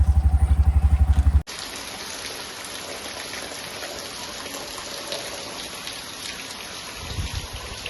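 First monsoon rain falls in a Konkan village near Ratnagiri, a steady close hiss of drops on surfaces, preceded by a brief rhythmic thumping sound.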